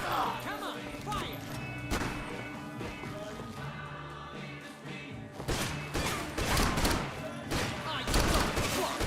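Gunfire in the shooter game Max Payne 3, with rapid bursts and crashing impacts that grow dense and loud toward the end, mixed with music and shouted voices.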